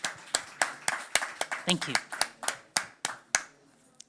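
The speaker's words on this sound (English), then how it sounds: "Round of applause." Scattered, uneven handclaps from a small audience thanking panelists at the close of a food sustainability panel session, about a dozen distinct claps over several seconds, with a voice speaking briefly over them.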